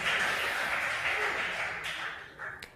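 An audience at a school quiz contest applauds a student, a dense wash of clapping from many hands that starts full and slowly thins out over a few seconds.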